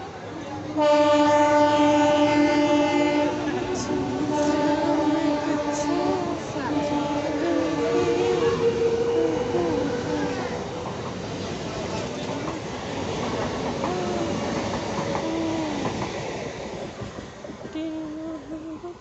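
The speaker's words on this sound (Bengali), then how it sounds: "ট্রেনটা চলে যাচ্ছে, সেই সিনটা তো দেখো।" A train horn blares loudly and long as the train rolls past, then the rumble and clatter of the cars fades gradually.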